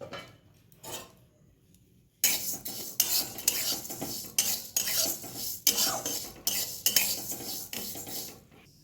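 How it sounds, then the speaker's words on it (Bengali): Moong dal dry-roasting in a wok while a spatula stirs it, sounding as rapid rhythmic scraping and rattling of grains against metal, close and loud after a quiet start with a couple of faint knocks. "প্রথমে কড়াইতে কিছুটা মুগের ডাল আমি ভেজে নিচ্ছি ভালো করে"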